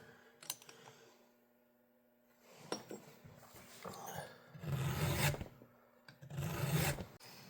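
A file rasps across the rakers of a full chisel chainsaw chain in short, measured strokes, close up and fairly quiet, with a few clicks and pauses between passes.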